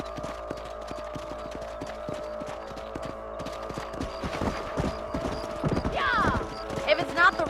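Horse hooves gallop in the Red Dead Redemption video game on Xbox 360, a steady clip-clop rhythm running under music and in-game voices, with a horse whinny and louder hoofbeats near the end.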